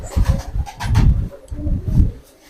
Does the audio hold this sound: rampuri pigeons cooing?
yes